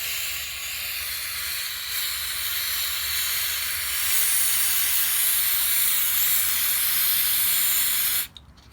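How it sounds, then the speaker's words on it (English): A steady aerosol hiss of carb and choke cleaner sprayed from a can onto the carburetor of a Stihl MS 250 chainsaw, continuous and close for about eight seconds before cutting off abruptly. "I'm gonna just use some Carb and choke cleaner here"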